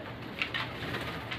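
A fancy pigeon gives soft, low cooing sounds, close and quiet over a faint background hum, with no talk.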